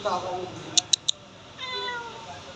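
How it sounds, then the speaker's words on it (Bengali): A silver-coloured cat meows a few times close by, its voice rising and falling, with three sharp clicks partway through and someone speaking over it. "দেখেন এটা কীরকম একটা বিড়াল"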